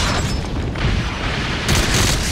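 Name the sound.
missiles exploding in the video game Metal Gear Solid 5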